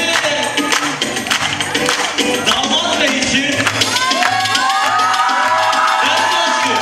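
Audience at a wedding celebration performance applauding and cheering for the couple, a dense crowd roar with claps and whoops while a host shouts over it through a microphone.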